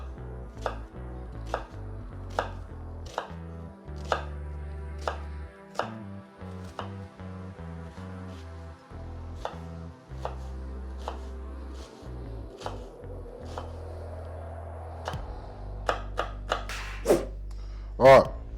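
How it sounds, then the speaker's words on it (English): A knife chops green beans and other vegetables on a cutting board in steady, evenly spaced close knocks, with a few faster, louder strikes near the end. "let me start chopping all this up"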